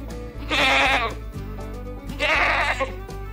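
Goats bleat close by in two loud, wavering calls, one just before the one-second mark and another around two and a half seconds, with quieter farmyard sound between them.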